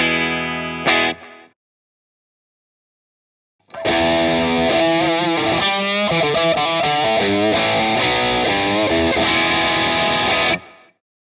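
An electric guitar plays through reverb and delay effects for a Vox-friendly JHS 3 Series Harmonic Trem setup, a short chord first cutting to silence, then a sustained strummed passage with shimmering, echoing tails, loud and clear with no talking.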